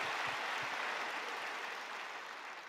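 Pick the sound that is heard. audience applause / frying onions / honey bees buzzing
audience applause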